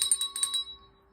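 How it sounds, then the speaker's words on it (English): A small hand bell rung a few quick times at close range, its bright metallic ring fading out over about a second, with a steady background hum. "I'm going to ring my bell"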